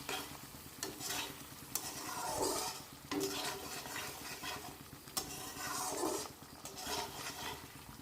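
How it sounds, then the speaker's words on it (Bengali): Tomato quarters stirred in a frying pan with hot oil, crackling sizzle broken by repeated scraping sweeps of a spatula and occasional knocks on the pan, close and steady with no voices. "এর মধ্যে এখন দিয়ে দিলাম টমেটো টুকরো করে চার টুকরো করে নিয়েছি একটা টমেটোকে দিয়ে অল্প নাড়িয়ে নিতে হবে"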